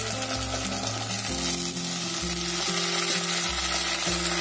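Onions and tomatoes sauté in a pan at home, giving a continuous close sizzle with faint stirring scrapes and no speech.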